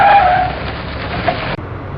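A car pulling away on a forest road, heard as a loud close burst of engine and tire noise with a brief squeal that cuts off abruptly, followed by quieter residual rumble.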